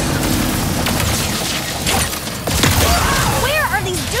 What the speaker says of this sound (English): The Shatter Bomb is a frag-type grenade that deals a lot of damage to your foes.